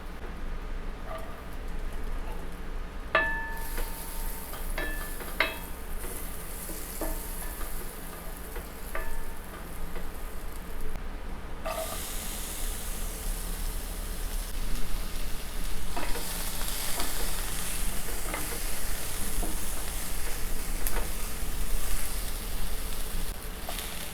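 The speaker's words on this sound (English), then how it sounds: "I'm going to saute this in a very small amount of butter" Garlic and bell pepper sautéing in a small amount of butter, a steady soft sizzle with occasional clicks and utensil taps, the frying growing louder and brighter partway through.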